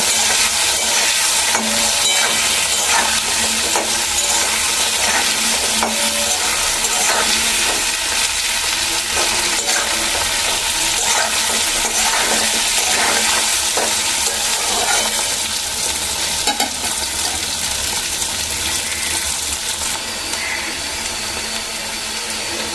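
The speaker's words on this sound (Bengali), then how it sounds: "এবার ভালো করে ভেজে নেব।" Drumstick pieces and potato fry with salt and turmeric for a Bengali chorchori, giving a steady, close, dense sizzle with occasional stirring scrapes throughout, no talking.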